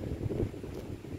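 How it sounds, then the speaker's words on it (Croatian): Strong wind blows during an outdoor run on a wet day, a low rumbling buffet against the microphone, faint and steady for a brief moment. "kiša je pomalo prokapljivala i vjetar je jak duvao"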